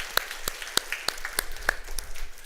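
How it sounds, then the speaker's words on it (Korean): A church congregation applauds its school teachers. Sharp, separate claps ring out at a fairly even pace in a reverberant room, joined by a few scattered hands toward the end. "우리 부서를 위해서 다시 한번 박수 한번 부탁드리겠습니다"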